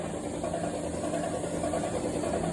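Toyota 1HDT diesel engine running at its initial startup, a steady mid-pitched mechanical drone with a fast, even chatter, loud and constant throughout with no speech.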